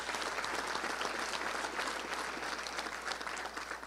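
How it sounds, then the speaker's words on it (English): Luncheon crowd at the Little Rock Touchdown Club applauds Scott Verity, a sustained wash of many hands clapping at moderate distance, even and unbroken from start to finish. "Let's give him a round of applause."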